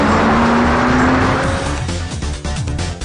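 A Porsche Cayman's 2.7-liter engine revs hard and loud up close, a rising sustained tone that drops away into rapid shifting pulses as the car pulls through its gears.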